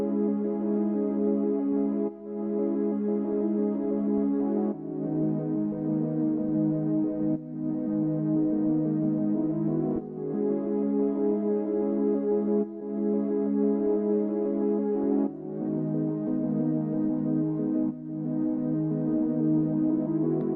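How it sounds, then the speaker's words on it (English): An Analog Lab 5 preset from Kill September's bank plays a dark ambient pad that alternates between two sustained chords, each held a couple of seconds in a slow, even cycle, warm and steady with no voices. "So I went to Analog Lab 5 and this preset from Kill September's Bank, and this is how it sounds."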